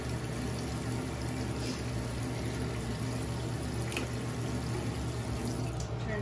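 A bathroom sink tap runs steadily during a night skincare routine, giving a constant, even rush of water close by with no change in flow and no voices.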